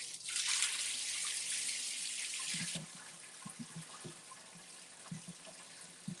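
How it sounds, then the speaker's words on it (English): Water runs steadily from a tap for about three seconds while sunflower and millet seed grains are rinsed, then stops, leaving soft scattered clinks and splashes of the wet seeds being handled. "I'm going to rinse out the rest of the sunflowers as we go along."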